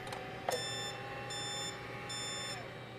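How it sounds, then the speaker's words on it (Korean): A Gene Café home coffee roaster gives a few short electronic beeps as it stops, with brief repeated tones sounding in bursts over a quiet hum. "빨간색 버튼을 꾹 누르고 있으면 띠띠띠 소리가 나면서 정지하는 그 위치까지 자동으로 와서 정지를 해요"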